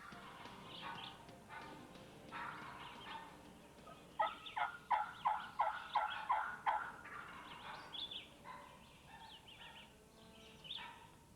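A wild turkey gobbles in a rapid burst of loud, rattling calls during a northeast Missouri turkey hunt, with fainter gobbles and calls scattered before and after it across the open woods.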